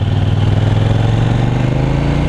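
KTM 790 Duke motorcycle engine idling and pulling with the throttle closed then opened, a loud, steady low rumble heard up close with a slight rise in pitch.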